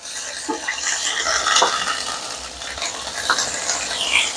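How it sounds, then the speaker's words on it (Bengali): Garlic, ginger and mustard paste frying in a pan for a tangy-sweet hog plum chutney, a steady close sizzle with scattered stirring scrapes and light utensil clinks throughout, no voices. "এগুলো দিয়ে ভালো করে ভেজে নেব"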